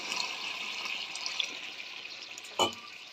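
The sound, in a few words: water poured into a cooking pot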